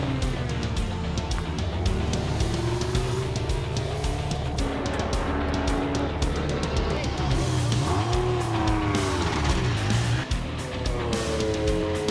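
At the NASA 25 Hours of Thunderhill endurance race, a race car engine fires up and runs with loud, rough revving amid other engines, a continuous close roar with pitch sweeps and faint speech.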